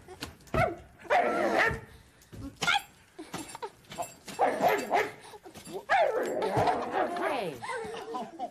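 A person on a children's TV show imitates a dog, giving a series of irregular yipping barks and whimpering howls, loud and close, with speech mixed in.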